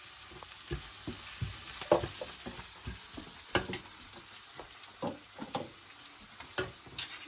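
Fennel seeds frying in oil in a pan until golden, a steady close sizzle broken by repeated scraping and stirring clicks throughout.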